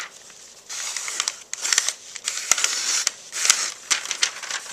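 A knife blade slicing into paper to test its edge: a series of dry crackling, crinkling cuts with sharp ticks, close and moderately loud, with no talking.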